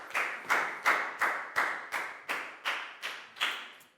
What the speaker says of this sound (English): a big round of applause for Bang Pon